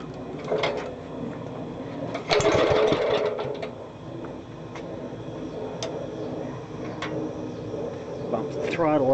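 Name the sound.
Wisconsin engine on a genset being started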